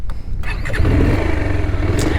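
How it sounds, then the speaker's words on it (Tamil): A Bajaj Pulsar 220 motorcycle engine cranks and catches, settling into a loud, throbbing idle up close. "வாங்க அதை போய் ஸ்டார்ட் பண்ணி பார்த்துடலாம்."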